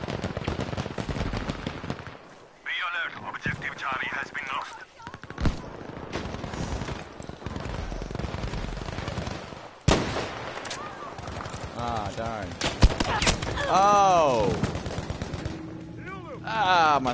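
Rapid gunfire and sharp rifle shots from Battlefield 5 crackle in bursts throughout, loud and close, with a few heavier single cracks and voices talking over the combat.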